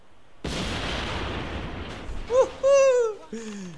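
Explosions in the video game The Saboteur erupt as a loud, sustained blast roar lasting about two seconds, followed by shorter tonal whooshes and game effects near the end.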